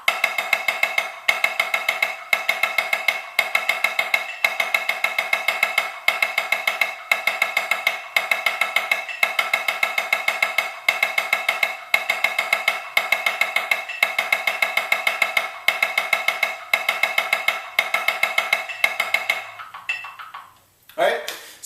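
Sticks strike a snare drum practice pad in a steady, rapid sixteenth-note pattern, each crisp hit ringing with a bright tone and grouped in regular accents, continuing nearly twenty seconds before stopping.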